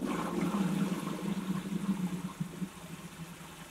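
Water runs steadily through a camper van shower during fresh-water tank cleaning, a continuous close rushing flow that eases off slightly toward the end.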